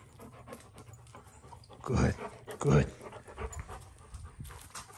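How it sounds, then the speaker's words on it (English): A newly rescued golden retriever pants close by in quick, breathy bursts that peak in two louder huffs, and someone speaks briefly in a calm voice. "we just got a new dog right here"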